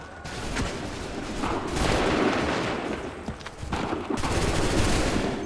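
Musket volleys crack out in Assassin's Creed III, a dense fusillade of overlapping gunshots with several loud broadband bursts across the span and continuous battle noise filling the gaps.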